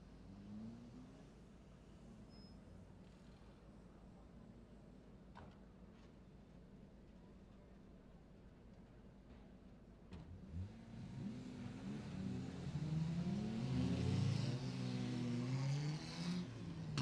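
Race cars on a circuit at an ICCR 2024 round are first a faint distant engine hum, then swell into loud revving and accelerating engines as they approach and pass close by.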